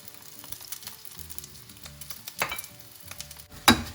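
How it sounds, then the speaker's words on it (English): An egg wrap frying in oil in a pan, heard as a low, faint sizzle with light scrapes, then a sharp burst of spitting near the end. "put some oil on the sides so that the eggs get cooked"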